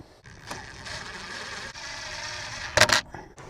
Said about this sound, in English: So we're just going to screw these on. It does include an Allen wrench. They're just an Allen bolt.